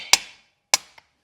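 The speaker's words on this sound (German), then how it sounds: "Also drehe ich es wieder um und öffne den Schnitt." A pane of scored glass being snapped open along the cut line: two sharp, crisp cracks about half a second apart, then a small faint tick. The sound is close and has nothing else behind it.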